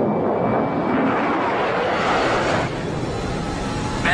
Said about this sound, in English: Bands on Nellis Tower, you're cleared for takeoff.